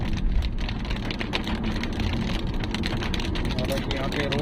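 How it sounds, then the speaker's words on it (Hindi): Heavy monsoon rain drumming on a car driving from Patna to Muzaffarpur, a dense, steady wash of rain and road noise with someone talking over it. "बारिश थोड़ी कम हुई है और फिर दोबारा से तेज हो गई।"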